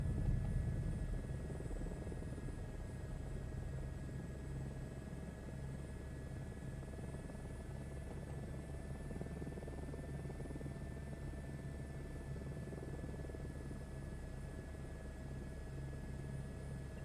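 A steady helicopter rotor drone hums continuously with a thin whine above it, quiet and unchanging for the whole stretch, with no voices, in a video game.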